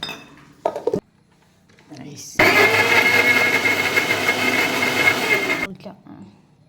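A mixer grinder whirs loudly and steadily for about three seconds as it blends chopped banana with basmati rice and a little water, preceded and followed by a few clinks of utensils and a container.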